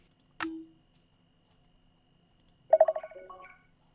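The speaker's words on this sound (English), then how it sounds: "Requesting video call!" An incoming video call ringtone from the Doctor Who: The Lonely Assassins game: a single bright electronic chime, then a short rising sequence of quick melodic beeps, clean and close with no talk.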